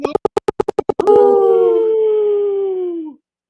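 A person imitates a wolf howl with a voice: a quick run of sharp rhythmic bursts, then one long sustained howl that holds steady and fades out near the end, loud and close.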